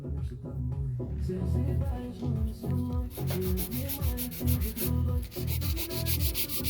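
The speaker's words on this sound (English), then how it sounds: "What happens to the acrylic if it isn't dry and you start buffing it?" A dry acrylic nail is buffed with steady, close scratchy strokes, gritty rubbing that runs continuously and grows brighter and harsher partway through.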